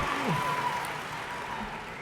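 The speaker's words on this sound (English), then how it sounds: "I'm going to dig for a little more applause here." A crowd at a university commencement ceremony applauds steadily, a broad wash of clapping that holds through the whole moment before tapering slightly.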